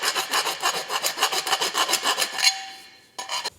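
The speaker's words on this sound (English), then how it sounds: "I like to grab a round file and pull off all the burrs on the inside." A round file rasps back and forth inside a metal exhaust pipe, deburring it in steady rhythmic strokes. A brief pause follows before a few more strokes.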